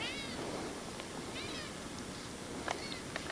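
A house cat meows several times, thin rising cries spaced apart, faint against a hissing, low-quality home recording background.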